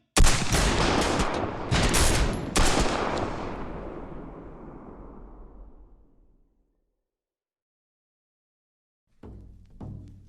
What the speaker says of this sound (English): Fire at the enemy!